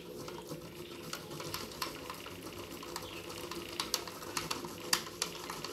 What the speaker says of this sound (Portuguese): Olha, gente, vou ralar agora.